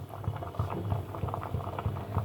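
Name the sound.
batter fritters (bora) bubbling as they cook in a pot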